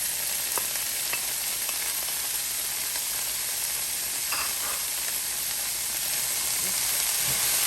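Celery and onions frying in a pan give off a steady, close hiss and sizzle, with a few faint stirring clicks and no talking.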